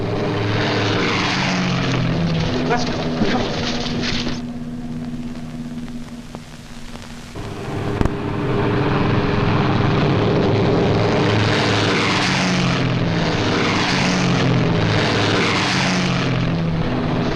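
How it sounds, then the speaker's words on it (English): Several WWII bomber propeller engines drone loudly and steadily as the planes pull out from an island base, the roar swelling and fading in waves, with brief speech from people nearby. "Every bomber on the island's pulling out."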